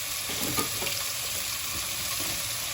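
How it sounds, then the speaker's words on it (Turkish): Meat frying in butter in a pan for orman kebabı, a steady soft sizzle with faint crackles, alone and fairly quiet. "Bir yemek kaşığından biraz az da tereyağı koydum ve etlerimi içine attım"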